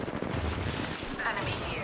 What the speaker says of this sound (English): Taking fire. That seems like they're shooting from everywhere.